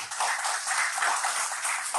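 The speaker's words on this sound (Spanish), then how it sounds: "Desde aquí yo le pido que recibamos al profesor con un aplauso." An audience welcoming a speaker at an academic forum breaks into steady applause, a dense, continuous wash of clapping held at even loudness throughout.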